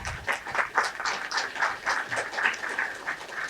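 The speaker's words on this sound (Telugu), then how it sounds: "గట్టిగా క్లాప్స్." Audience members at a spiritual talk on meditation and service clap together, producing a dense, uneven patter of hand claps that swells and fades in rhythmic waves at moderate distance.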